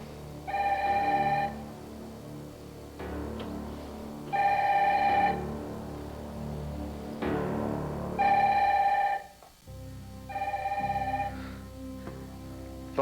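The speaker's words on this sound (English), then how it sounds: "Phone's ringing." An old-fashioned telephone bell rings in four long, regular bursts with short gaps, loud and close, over a low background hum.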